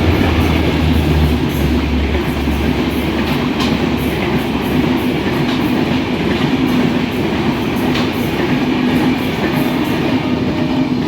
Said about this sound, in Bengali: এই মুহূর্তে প্রবেশ করছে কলকাতা থেকে ছেড়ে আসা ঢাকাগামী মৈত্রী এক্সপ্রেস।